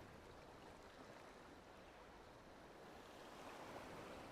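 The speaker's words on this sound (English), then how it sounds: "I can hear the sea waves." Sea waves wash in a steady, soft, continuous surf during a cutscene in Final Fantasy XIV, faint and alone with no voices.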